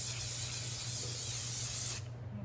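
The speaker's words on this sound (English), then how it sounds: "I'm going to spray my surface again. Just give it another good spray." Spray bottle misting a surface for a relief art piece: one continuous close hissing spray for about two seconds, then it cuts off into near quiet.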